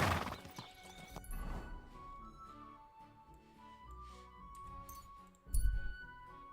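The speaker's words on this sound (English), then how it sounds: "This is my horse?" Horse neighing and hooves clopping in a video game, a whinny rising over steady clip-clop footfalls with a louder burst of hoofbeats near the end, set against game background sound.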